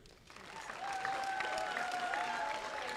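Applause fills a robotics tournament venue for the competing FTC teams, a steady mass of clapping that swells after a brief lull and holds at moderate loudness.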